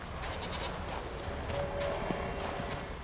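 Goats bleat a few times on a mountain in the video game The Witcher 3: Wild Hunt, over a steady ambient bed with occasional soft hoof-like clops; moderately distant and not very loud.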